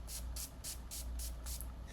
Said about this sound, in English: Let's spray some of this on there.